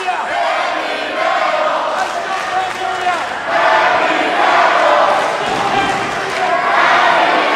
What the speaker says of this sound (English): They're definitely chanting for him.